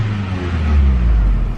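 Car engine idling and lightly revved with a touch of gas, a low steady rumble that swells slightly in the middle, close by and with no talking.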